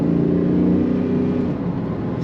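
A 1994 Pontiac Firebird Trans Am 25th Anniversary V8 accelerating, a loud, close, steady low engine drone with a smooth rising pitch that eases slightly near the end.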